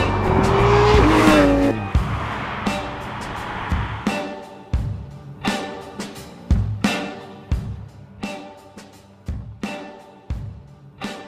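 Sports car tires squealing through a curve at a racetrack such as the Nürburgring or Spa: a long, loud screech with engine roar at first, then a series of sharp, rhythmic impacts and bursts repeating roughly every second, with no voices.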